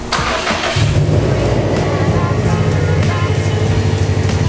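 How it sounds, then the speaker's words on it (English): A 2017 Subaru WRX STI with a new radiator and cooling mod cranks briefly and fires up close by, settling into a loud, steady idle rumble with no talking. "we're gonna go ahead and start the car"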